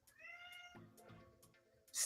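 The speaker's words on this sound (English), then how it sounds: "Stop meowing!" A pet cat meows several times nearby, drawn-out and tonal, with faint room noise underneath and a sharp hiss-like burst at the end.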